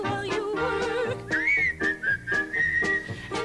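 Whistled melody from a live Snow White stage show at Radio City Music Hall, a sustained wavering tune carried over orchestral music with rhythmic accompaniment, fairly loud and steady.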